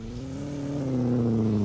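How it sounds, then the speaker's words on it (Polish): A Fiat 126p maluch in the Roblox driving game pulls away, its engine tone climbing steadily as it accelerates, a clear mid-pitched drone growing louder over a couple of seconds with no talk. "Dwa maluszki, teraz będą jechać."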